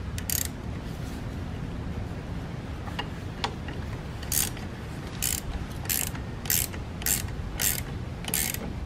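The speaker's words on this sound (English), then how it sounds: "I'll use a ratchet wrench to tighten up that lock nut" Ratchet wrench tightening a lock nut on a third-generation Dodge Ram 3500 Cummins, a series of crisp, evenly spaced ratcheting clicks in the second half over a low background rumble.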